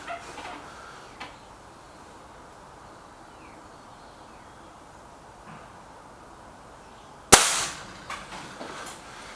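An SMK Model 19 Supergrade air rifle fires a single sharp, close crack outdoors, followed by a short ringing decay, with faint ambient noise and small knocks before it.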